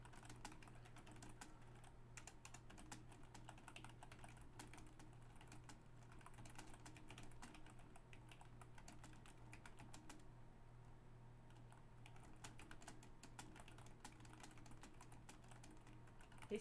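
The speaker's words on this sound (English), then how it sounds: "He's typing a lot." Someone types on a computer keyboard during a live coin sale, a faint, quick patter of key clicks running steadily for many seconds under a low hum.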